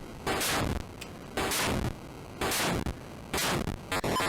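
Four bursts of rapid gunfire from the Atari 8-bit shooter The Extirpator, harsh noisy crackling volleys about a second apart with short gaps of quiet between them.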